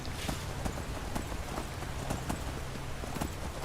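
Rapid, evenly spaced hoofbeats of a galloping horse in the game The Elder Scrolls V: Skyrim thud along steadily over a soft background wash, close and moderately loud.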